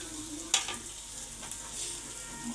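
Potato masala curry frying in a pan as spice masala goes in: a soft, continuous sizzle with one sharp utensil clatter near the start and light stirring scrapes, no voices.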